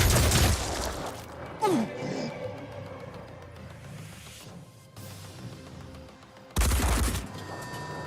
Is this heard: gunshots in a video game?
yes